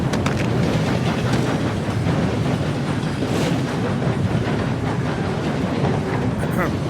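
Train in a film scene rumbling along with a steady rhythmic clatter of wheels on track, loud and continuous throughout with no clear pauses.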